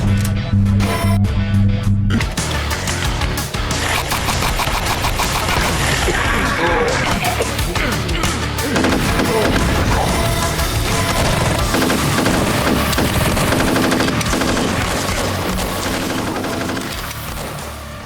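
Gunfire from a combat shotgun in an indie first-person shooter game, dense continuous loud blasts and booms layered with game sound and music, near and sustained throughout.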